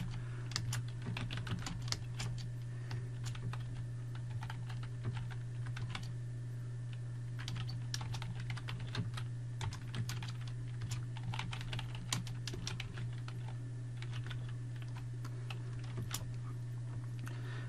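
Rapid, steady typing on a computer keyboard while writing HTML and CSS code, with dense irregular clicks continuing throughout over a constant low electrical hum and no talking.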